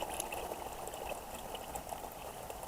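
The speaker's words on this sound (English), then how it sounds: "I just fill it up with water until I see it water level rise" Water from a garden hose pouring steadily into a kiddie pool outdoors, a constant close splashing rush with no pauses and no voices.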